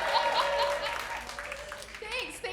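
A comedy club crowd at a comedy bootcamp show applauds, a moderate wash of clapping with a voice talking over it.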